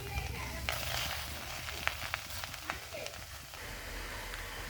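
Drumstick leaves crackle and sizzle in a hot wok, a steady frying hiss broken by scattered sharp pops and spatters.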